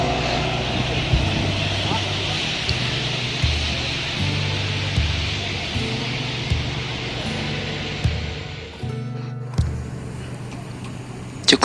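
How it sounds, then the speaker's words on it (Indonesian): An Adi Putro Jetbus-bodied bus rolls through a bus terminal, a continuous engine drone and road noise with rhythmic low thumps, loud and close before fading near the end. "Dari arah Bukit Tinggi masuk 1 unit bus KMS atau Kamisayo dengan bodi jet bus dari Adi Putro"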